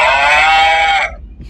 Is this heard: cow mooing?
yes